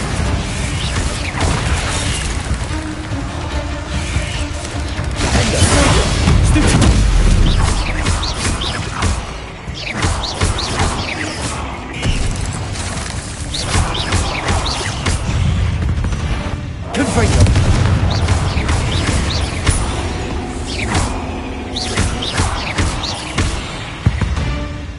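Repeated Bombarda spell blasts in Hogwarts Legacy combat, heavy booming explosions and crashes recurring throughout amid continuous battle noise and voices.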